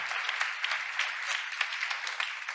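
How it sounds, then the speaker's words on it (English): Audience applause after a talk on AI and robotics innovations, steady dense clapping that continues throughout, moderately loud and alone without voices. "You may clap now."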